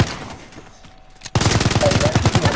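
Rapid automatic gunfire in a shooting video game, a quieter stretch of scattered shots followed by a loud dense burst of rhythmic rounds through the final second.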